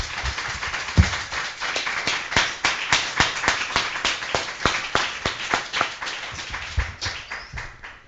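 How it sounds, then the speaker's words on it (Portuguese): Church congregation clapping together in steady rhythmic applause at a service, sharp claps repeating evenly and loudly for several seconds, with a brief thump near the start. "Vamos dar uma salva de palmas para o nosso Deus"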